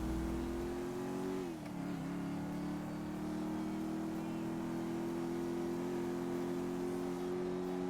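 Car engine in a video game: a steady, droning hum that holds one pitch, with a brief dip near the start, heard at a moderate distance at a fairly low level.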